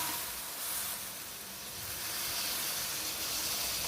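Milk poured into grated coconut in a hot pan gives off a continuous soft steaming hiss and sizzle, close and even, with no voices.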